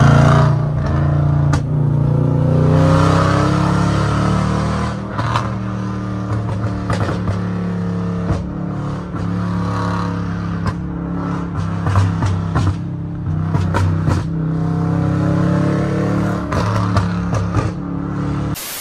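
A Dodge Challenger convertible with a 6000 cc engine rumbles loudly and steadily while driving, its deep exhaust note swelling and easing with throttle throughout.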